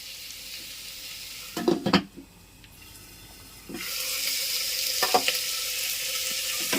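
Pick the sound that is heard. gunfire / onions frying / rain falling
onions frying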